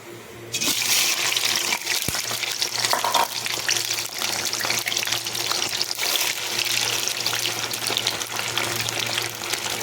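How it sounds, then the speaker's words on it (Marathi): Potato pieces frying in hot oil give off a loud, continuous hiss and crackle that starts abruptly and holds steady to the end. "आता आपण याच्यामध्ये आलू फ्राय करून काढणार आहोत."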